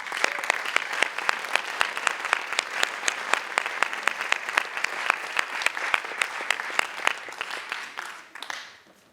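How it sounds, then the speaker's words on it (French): Theatre audience bursts into loud, sustained applause at a cultural season presentation, dense clapping steady for several seconds before tapering off at the end. "je vais vous demander d'applaudir Ethel de Souza et Valentin Hector."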